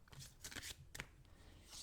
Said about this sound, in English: So I'm just going to shuffle the cards a little bit.